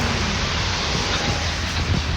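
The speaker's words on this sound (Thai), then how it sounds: "ฝนตก รินริน" Light drizzle falling over a vegetable garden, a steady soft broadband hiss with no voices, close and even throughout.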